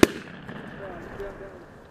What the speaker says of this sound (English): Another one, shoot him. Good shot.